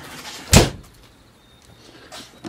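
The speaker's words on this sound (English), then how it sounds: "All these little compartments open up." An ambulance storage compartment opens with one sharp close bang, followed by faint rattles and small knocks.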